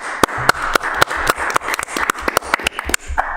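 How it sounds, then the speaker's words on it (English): Applause at a city council meeting: a small group claps in a steady, sparse rhythm of sharp individual claps, close and clear with no talking over it. "A big thank you and a big round of applause to all of you."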